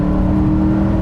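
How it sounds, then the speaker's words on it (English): The V8 engine of a 2000 Ford Mustang SVT Cobra R, naturally aspirated, holds a loud, close, steady growling rev for about a second with no other sound. "Oh, that's a big V8."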